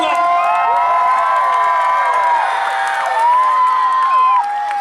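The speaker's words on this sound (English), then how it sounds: "Let me hear the cheers here for Jared Vogel." A loud motorsport crowd at an Outlaws of Motorsport show in Brandon, Manitoba cheers and whoops for racer Jared Vogel, with shrill sustained shouts and bursts of clapping swelling close and continuous.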